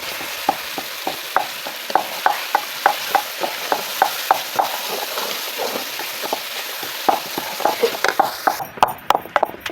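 Chicken tossed into a masala and yogurt mixture frying in a pan, giving a steady sizzle broken by repeated scraping stir strokes at a regular pace, close and fairly loud, with no talking.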